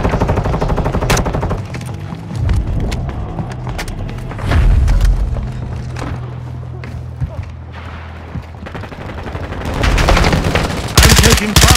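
Rapid machine-gun bursts and single gunshots rattle through a zombie royale match in Warzone, with booms and thuds mixed in, loud and close, and game voices speaking over the firing.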